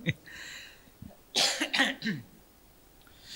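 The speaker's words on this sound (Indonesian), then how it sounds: "Mohon maaf ini saya agak batuk ya." A man in a mosque coughs a few times in short harsh bursts, then clears his throat, with quiet room tone between the coughs.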